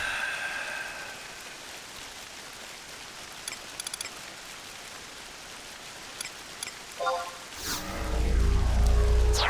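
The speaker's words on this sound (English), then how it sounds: "Always raining in Bordeaux." Rain falls in the Bastok area of the video game Final Fantasy XI as a steady, soft, hissing wash. A few faint clicks sound partway through, and a louder rumbling swell rises near the end.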